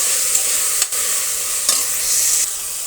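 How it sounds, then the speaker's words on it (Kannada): Three thickly chopped tomatoes fry in a pan, giving a steady close sizzle with occasional stirring scrapes, no voice over the cooking. "ಮೂರು ಟೊಮೆಟೊ ಸ್ವಲ್ಪ ಫ್ರೈ ಆಗಲಿ ಚೆನ್ನಾಗಿ."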